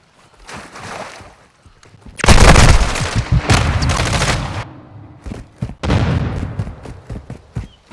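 Heavy gunfire in the Warzone 2 video game: loud, dense bursts of shots and explosions crowd the middle, then give way to scattered, sharp single reports near the end.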